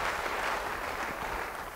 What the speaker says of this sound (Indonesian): Yang percaya beri tepuk tangan.